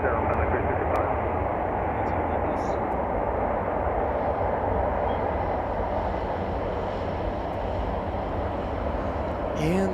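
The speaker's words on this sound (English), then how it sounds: "And there goes Aer Lingus back off to Dublin, Ireland." Aer Lingus airliner departing Chicago O'Hare: a loud, steady roar of jet engines at takeoff power that fills the whole stretch, with a voice talking briefly over it.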